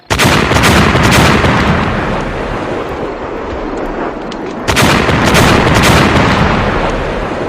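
A massive explosion in a Thai war audio drama set during an opium war at Phu Hin Tang, following a rocket overhead: a loud roaring blast rumbles on, then a second heavy burst hits midway and sustains, with no voices.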